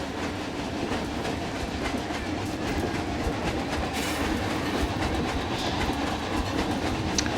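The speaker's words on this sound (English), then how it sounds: "And there goes the train again." A roller coaster train in the Planet Coaster 2 video game rumbles past with continuous rattling, clattering wheels on track, steady and fairly loud throughout.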